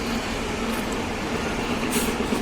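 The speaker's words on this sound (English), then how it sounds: "Sorry for the train." A train passes by in Germany near dry wild land by the Rhine, a continuous loud low rumble of rolling rail cars with a steady mechanical hum, close and unbroken throughout.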